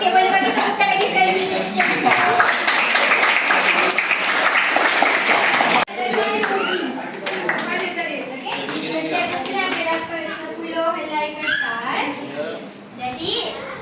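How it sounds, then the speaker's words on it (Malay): A group of children at a volunteer activity programme applauds loudly and continuously, the dense clapping mixed with excited young voices and chatter that carry on as the clapping thins out toward the end. "boleh bagi tepukan lagi sekali"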